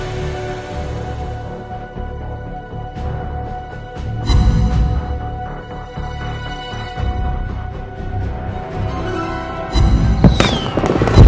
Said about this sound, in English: the fireworks you hear show this